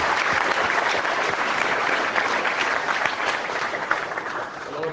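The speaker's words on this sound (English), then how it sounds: "let's give Adam a round of applause" A crowd at a youth political rally in Toronto applauds, sustained, dense clapping at a steady loud level with a few sharper individual claps and faint cheering mixed in.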